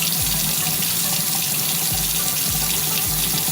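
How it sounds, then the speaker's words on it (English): Water running from a bathroom sink faucet, a loud, steady hiss and splash that continues unbroken throughout, close by with no voices. "Get it a little wet under the faucet."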